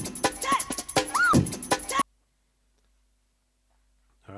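A drum break sample warped to one bar plays for about two seconds as a dense run of punchy kicks, snares and hats, then cuts to silence before the loop restarts faintly at the end.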